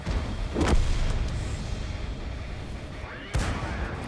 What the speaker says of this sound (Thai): ล็อกเป้าแล้วยิงครับ